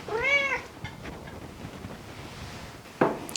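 A cat gives one clear, close meow at the start in a quiet kitchen, followed by near silence and a brief faint sound near the end.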